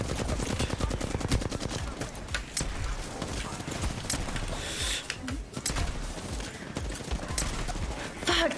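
Shotguns boom repeatedly during a beginner's shooting session, the blasts dense and overlapping with clattering mechanical noise and continuing through the whole stretch.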